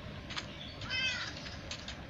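A cat in the video game Minecraft gives a faint, short meow over quiet background noise, with no one talking.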